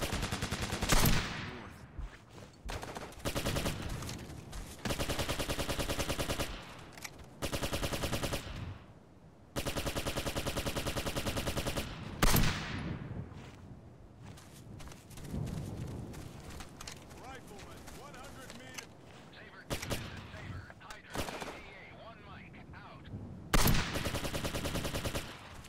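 Bursts of automatic gunfire and rifle shots from the military shooter Operation Flashpoint: Dragon Rising, coming in loud repeated volleys with short gaps, and voices shouting over the battle.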